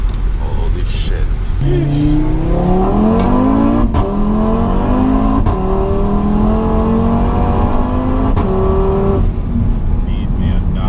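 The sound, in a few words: Daza car engine running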